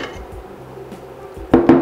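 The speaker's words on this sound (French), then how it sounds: "nous allons mélanger le sucre glace et la farine" Icing sugar and flour being stirred together in a bowl for almond tuiles: a quiet scraping, then two louder clinks of the utensil against the bowl near the end. No one speaks.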